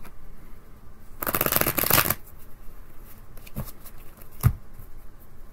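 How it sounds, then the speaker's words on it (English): Tarot cards riffle briefly in a quick shuffle, followed by a few soft taps and clicks as the deck is squared up, close by. "One quick shuffle, get them lined up for you."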